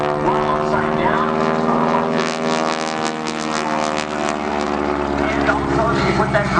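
Aerobatic airshow plane with inverted fuel and oil systems passing low overhead, its steady loud propeller engine drone rising and then holding, with voices faintly beneath.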